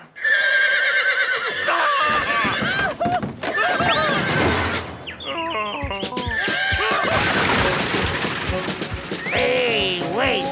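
Horses trained to bolt wildly neigh and whinny loudly and repeatedly in a cartoon, mixed with clattering hooves and crashing noises in a chaotic, busy scene.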